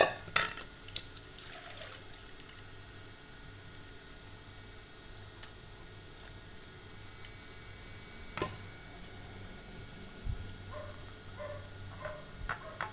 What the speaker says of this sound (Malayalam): ഒരു അരിപ്പയിലൂടെ ഒഴിച്ച് നമുക്ക് വെള്ളം ഒന്ന് വാർത്ത് മാറ്റാം